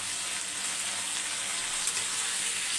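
Shallots, garlic and tomatoes sauté in a pan with a steady, even sizzle that holds at a constant level throughout, close and unbroken, with no voices.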